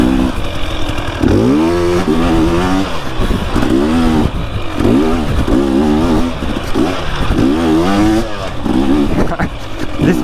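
Motorcycle engine revving repeatedly in bursts, loud and close, each rev rising and falling in pitch with a steady rhythm of throttle blips.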